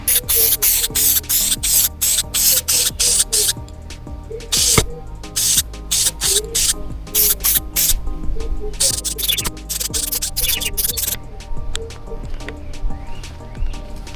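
Satin black spray paint hisses onto a Holden HQ–HZ series wiper motor in short rapid bursts, loud and close, the rhythm of the bursts thinning toward the end.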